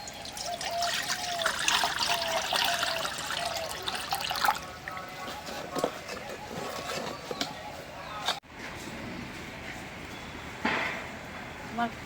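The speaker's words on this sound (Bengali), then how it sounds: "প্রথমে দেবো পানি, বুঝছো?" Water is poured into a kadai wok, a close, rushing trickle for the first few seconds, then quieter splashes, with people talking around it.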